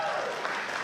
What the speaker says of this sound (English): Can you just give yourself a really big hand clap?